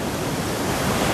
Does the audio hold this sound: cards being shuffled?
no